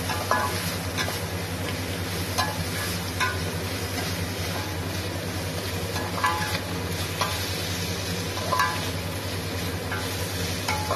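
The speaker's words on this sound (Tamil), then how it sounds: "வெங்காயம் தக்காளி நல்லா வேகிற வரைக்கும் கொஞ்ச நேரம் நம்ம வதக்கலாம்." Onions and tomatoes sauté in a pan as part of a ragi vermicelli dish, giving a steady low sizzle with faint scraping stirs recurring throughout, no voices.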